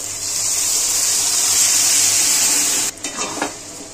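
Chicken tarka stirred in a hot sizzling pan, a steady bright frying hiss with a few scraping knocks of the spoon near the end.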